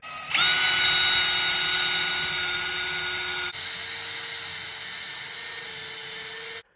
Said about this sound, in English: I'm just clamping 4 together at a time and drilling through, so all in one go.